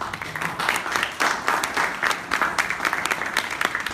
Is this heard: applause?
yes